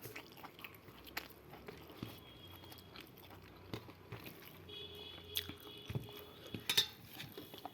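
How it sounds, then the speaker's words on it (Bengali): Someone bites and chews crunchy fried food at close range, with scattered soft crunches and a few sharper clicks against a quiet room. "চলো ভাজাটা দিয়ে একটু খেয়ে নিই বলো।"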